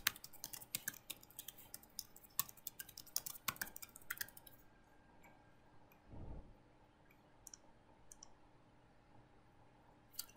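Fingers tap out a password on a computer keyboard in a quiet room, a quick run of close, crisp key clicks that thins to a few scattered taps, with no voices.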